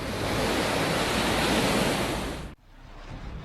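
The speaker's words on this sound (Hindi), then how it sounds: "समंदर का शोर सावधान कर रहा है" Stormy Arabian Sea surf during Cyclone Biparjoy on the Maharashtra coast roars as a loud continuous wash of waves and wind, then cuts abruptly to a quieter, lower rush of water.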